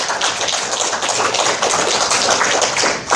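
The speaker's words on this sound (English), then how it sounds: "Let's have a round of applause." Applause from a podcast audience, dense rapid clapping from a small crowd, close and loud, sustained evenly throughout with no speech.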